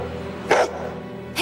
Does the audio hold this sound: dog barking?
yes